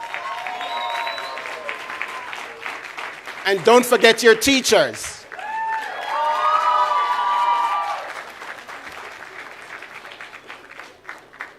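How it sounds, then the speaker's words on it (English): Graduation audience at a June 2017 high school ceremony breaks into a short, loud burst of applause and cheering mid-clip, with a speaker talking before and after it. "I want you to give them a round of applause"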